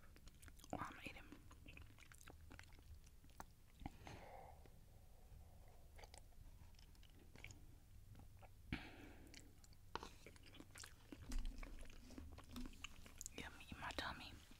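Someone eats ramen up close while whispering, with soft wet chewing and biting sounds, quiet mouth noises and breaths scattered between faint whispered speech.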